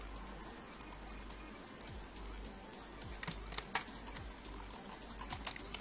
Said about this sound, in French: vous entendez aussi sûrement mon clavier